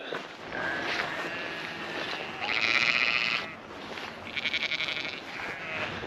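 Sheep bleat repeatedly while being herded in the Welsh hills near Storey Arms, several drawn-out wavering calls rising and falling over a steady outdoor background, moderately close.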